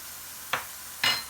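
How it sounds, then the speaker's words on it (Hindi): Two short bursts of stirring and sizzling as gram flour (besan) with whole cumin roasts in a pan of gravy, each scrape loud at first and then fading, with a quiet pause between. "अब हमने बेसन को भून लेना है।"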